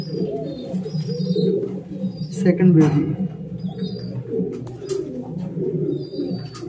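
Racing pigeons in a loft coo with low, steady, throaty murmurs that run continuously under someone talking nearby.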